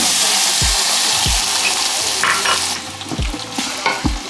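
Chopped tomatoes and white onion sizzle loudly in about a quarter cup of hot oil in a pan on high heat, a close continuous fry broken by several low thumps of stirring.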